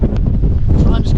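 Strong wind buffets the microphone on a Lake District fell descent, a loud, low, blustery roar that rises and falls over a little more than a second.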